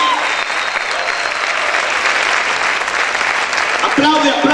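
Loud, sustained clapping from a church congregation fills the space, dense and even, with a voice rising over the applause toward the end.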